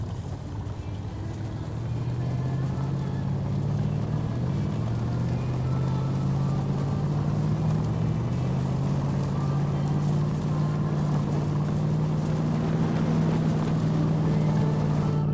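A car engine in the video game DayZ: a steady drone rises after a couple of seconds and holds at a constant low pitch, with a slight waver, loud and continuous without speech.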